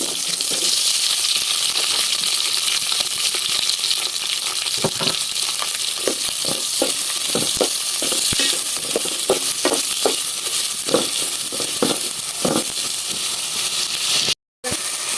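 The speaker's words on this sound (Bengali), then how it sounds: "আমি তেলটা দিয়ে দিই পেস্ট ভেজে দিলাম" Spice paste sizzles in hot oil in a pan while a spicy folui fish curry is being made, a steady dense hiss with soft popping crackles scattered throughout. One brief dropout occurs near the end.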